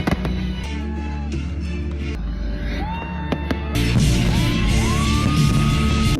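Fireworks at 974 Stadium in Doha bang and crackle under a loud, continuous crowd roar, with whistling rising shells and cheering voices running throughout.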